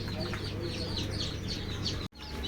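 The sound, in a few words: native chicken chicks cheeping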